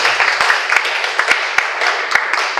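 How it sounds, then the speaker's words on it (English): Audience applause welcoming participants to a forum at Universitas Paramadina: a steady wash of many hands clapping, fairly loud and close, holding evenly throughout with no talk over it. "Please give your applause."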